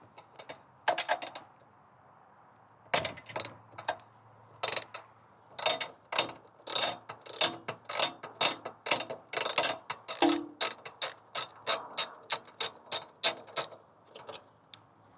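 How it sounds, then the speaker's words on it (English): A 5mm Allen wrench works loose the valve cap on a pressure washer, giving close, crisp ratcheting clicks in irregular bursts that build into a rapid, steady series of sharp ticks. "we're going to take our 5mm Allen to remove our valve cap"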